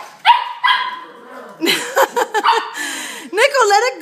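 A dog obsessed with a broom lets out a string of short barks, whines and yelping vocal noises at close range, in bursts over a few seconds.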